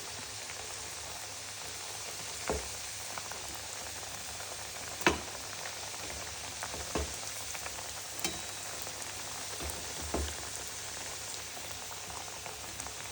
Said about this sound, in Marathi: तर ते आपण अशा तळून देऊ थोडा वेळ तर चकल्या तळलेल्या आहेत